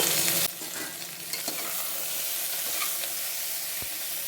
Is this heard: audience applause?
no